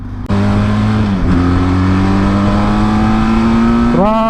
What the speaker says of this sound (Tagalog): This is twin cylinder din guys, pero ang ganda ng tunog.